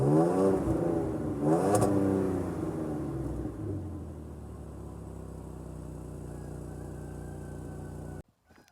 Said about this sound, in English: We'll let Mom's car warm up a bit before I rev it.